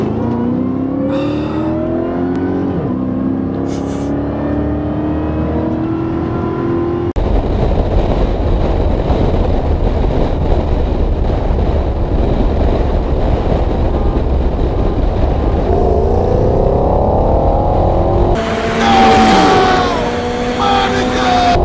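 A naturally aspirated Coyote Mustang and a supercharged Edelbrock SRT-powered Challenger race to 100 mph. Loud engines rev and climb through gears in rising sweeps, with a roaring stretch in the middle and people talking over parts of it.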